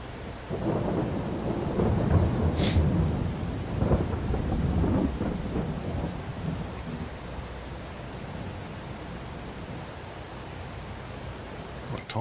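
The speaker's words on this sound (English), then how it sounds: "What time's this rain due to stop?" Rain and rolling thunder in the video game Farming Simulator 22, a steady wash of rainfall with low rumbles that swell in the first half and then ease to a constant patter.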